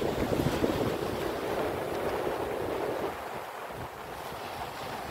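Adriatic Sea waves washing onto the beach at Alba Adriatica, a continuous broad rushing roar of surf with wind buffeting the microphone, steady and fairly loud throughout, with no voices.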